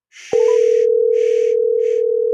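A telephone line sounds a steady, loud single-pitch signal tone while a radio show calls a contest winner, with brief bursts of hissy noise pulsing above it three times.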